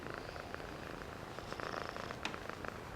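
A small adoptable cat purrs steadily and softly up close, a continuous low rumble with a calm, even rhythm and no talking over it.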